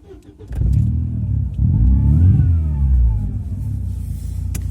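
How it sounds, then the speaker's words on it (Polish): A Volkswagen Passat B5 running on LPG cranks and catches, then revs up loudly and settles into a deep, steady idle close by. "Także Mikołaj, odpalaj autko i zaraz coś Wam więcej powiemy o tym samochodzie."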